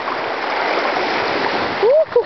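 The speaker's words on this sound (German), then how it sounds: "Ich wälz mich hier faul im Wasser." A person lolling and splashing lazily in water makes a steady, close rush of sloshing that runs without a break, then ends with a short vocal sound.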